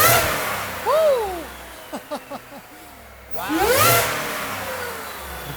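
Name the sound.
supercharged Ford F-150 engine revving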